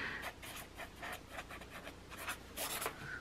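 A pen scratches across the paper of a Leuchtturm 1917 notebook in quick, irregular strokes, close and fairly quiet, with short pauses between the scribbles.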